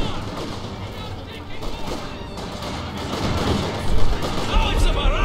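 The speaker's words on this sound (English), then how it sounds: "Oh, it's a barrage! Get down!" Artillery barrage in the Company of Heroes 2 video game, dense rumbling blasts and crackling gunfire that build toward a heavier thump near the end, with voices talking over the noise.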